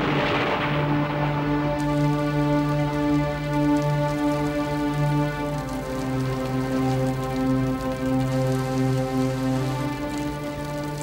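Steady, dense rain falls continuously for the whole stretch, with a sustained tonal hum layered over it and no voices.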